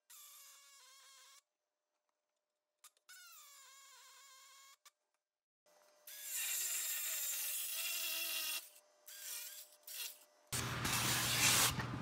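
Power cutting tool trimming a marked-out section of a Jeep Grand Cherokee WJ body panel for a modular front bumper install, heard in loud, sustained harsh bursts that stop and restart, alone without talk.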